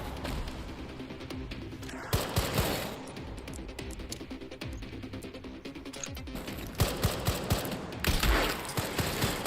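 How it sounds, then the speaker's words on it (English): Repeated bursts of enemy gunfire in Resident Evil Requiem, dense rattling shots with sharper cracks standing out around the middle and near the end, set against a busy game soundscape. "they're shooting, they're shooting, they're shooting"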